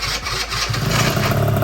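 An MBK Nitro scooter with a 70cc Top kit and Yasuni exhaust sputters and catches into a loud, close two-stroke idle that steadies after a rough start.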